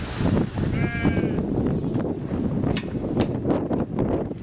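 Sheep bleating on a farm near Christchurch, New Zealand, a brief wavering bleat and a couple of sharper calls over constant wind and rustling outdoor noise.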